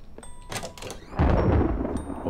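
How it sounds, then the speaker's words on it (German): A deep rumble of thunder rolls in with a wash of rain in the horror game Pineview Drive, after a few sharp knocks and clicks. "es donnert und regnet wieder."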